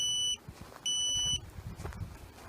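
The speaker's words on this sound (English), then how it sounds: "the GPS unit will stop beeping at me" A GPS wireless dog fence unit beeps in two long, loud high-pitched bursts separated by a short gap, signalling a boundary breach.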